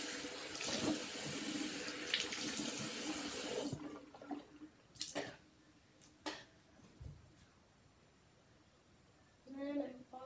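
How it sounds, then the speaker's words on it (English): A bathroom tap runs steadily while someone washes their face and hands, a loud continuous gush that cuts off abruptly partway through, leaving a few drips and splashes, with a voice speaking briefly near the end. "Wash my face and my hands"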